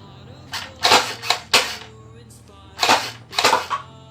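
Toy M-16 style gel blaster fired at a target in two short bursts of rapid, sharp clicking shots, the first burst longer and broken into several rattles, the second after a pause; no talk during the shots.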